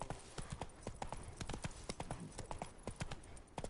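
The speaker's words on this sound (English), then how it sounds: "Run, Roach." Horse hooves galloping in The Witcher 3: Blood and Wine, a fast steady clip-clop of a running horse, fairly faint.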